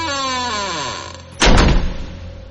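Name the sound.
door slamming shut, horror story sound effect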